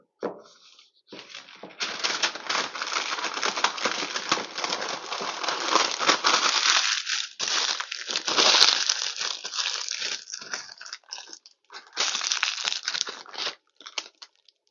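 Foil or plastic wrapper crinkling and crushing around a quarter-inch-thick slab of chocolate, loud and close, in long continuous bursts with brief pauses.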